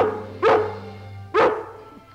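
Dog barking in an old cartoon, two loud, separate barks spaced about a second apart over a low background hum.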